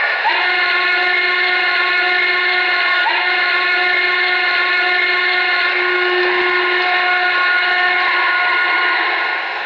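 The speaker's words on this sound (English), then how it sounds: "So the next thing we got there is the whistle." A Broadway Limited Norfolk and Western Class A model train sounds its steam whistle in one loud, sustained chord-like blast lasting nearly ten seconds, close and alone before it tapers slightly at the end.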